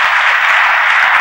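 A church congregation clapping for the Lord, a dense continuous wash of many hands applauding at close range, steady and loud for the whole moment.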